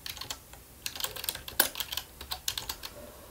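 Someone types on a computer keyboard while entering text in Adobe Illustrator, giving a quiet, close, irregular patter of keystrokes with short pauses. No voice is heard.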